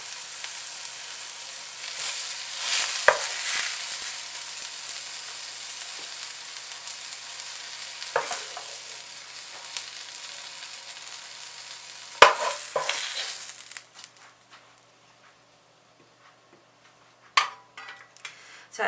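Steady sizzling and crackling of fish frying in a pan, with occasional clinks, then it quiets to near silence with a brief clatter near the end.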